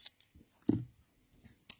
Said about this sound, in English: I can cut it with my scissors